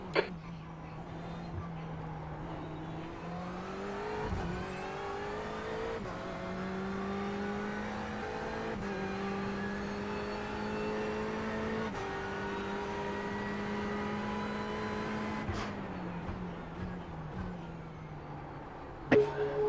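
A Porsche race car engine in a GT endurance racing game at Sebring holds a loud, steady drone, rising in pitch through each gear and dropping sharply at several shifts before a final lift near the end.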